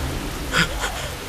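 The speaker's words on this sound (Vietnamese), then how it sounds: "Mưa rồi! Mưa rồi!" Rain falls steadily in a dramatic outdoor scene, a broad hiss of drops on surfaces, with a brief louder burst of splashing partway through.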